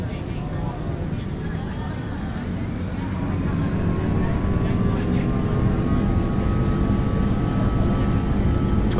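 Jet engines of a Delta Airbus A330-200 build to a steady, loud roar during the takeoff roll, heard from inside the cabin, with a rising whine underneath.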